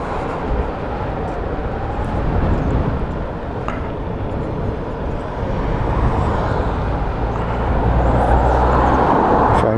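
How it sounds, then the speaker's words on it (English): Cars passing on a UK road, a steady heavy roar of traffic noise that swells slightly near the end, close and continuous with no talking. "So I'm just letting these cars pass."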